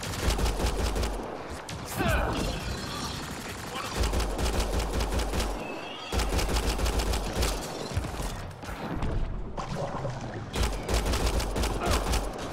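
Rapid automatic gunfire in Mass Effect: Andromeda comes in loud sustained bursts with short gaps between them, close and harsh, while voices talk underneath.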